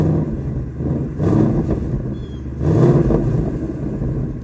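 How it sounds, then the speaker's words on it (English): A Ford Mustang with its exhaust valves set to quiet mode gets two short throttle blips, each a muffled, deep rise and fall in engine note, close by and otherwise alone. "Give it a couple revs."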